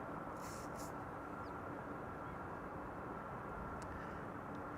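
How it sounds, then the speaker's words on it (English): A KLM Boeing 787-10 Dreamliner arriving at Amsterdam Schiphol, heard as a steady broadband jet rumble that holds constant throughout, with a few faint higher chirps over it. "It's KLM 100 years 787-10 Dreamliner. Here it is."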